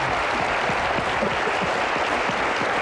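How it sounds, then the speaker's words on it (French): Studio audience applauding on a French television talk show, a dense and steady burst of clapping heard alone at close range. "j'aimerais qu'on applaudisse tous ceux qui sont venus témoigner dans cette émission, pour leur courage"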